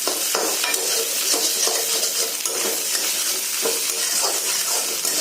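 Teasel gourd frying in a pan, with a steady close sizzle punctuated by repeated scraping strokes of stirring and occasional light clinks against the pan.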